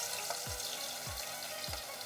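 Crushed garlic sizzling in hot oil in a village-style Bengali kitchen, a steady bright crackle broken by three soft stirring scrapes, close and even.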